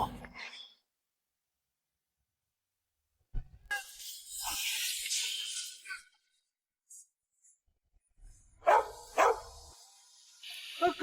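Dog barks come in a few short, close bursts separated by silence, with brief whimpering and sighing sounds mixed in.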